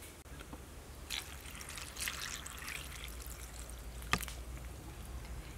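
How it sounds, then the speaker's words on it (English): Water trickles and pours steadily as dumpling ingredients are set to soak, a faint, continuous stream with a few brighter splashy bursts, no voices. "I soak it in water."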